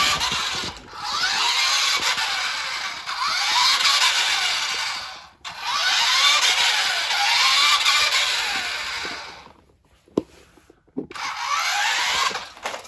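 Vintage Nikko Ranger 4WD radio-controlled car whirring as it drives, its small electric motor buzzing in several long bursts with brief pauses between runs, loud and close.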